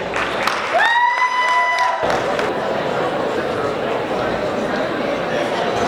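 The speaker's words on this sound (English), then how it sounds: "So please, a small round of applause for your president." Audience applause at a Qawwali night event, with a dense wash of clapping from the crowd that stays loud and steady throughout, and a brief rising electronic tone near the start.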